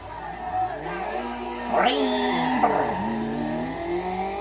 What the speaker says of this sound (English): And then we drift in. We drift in on that line.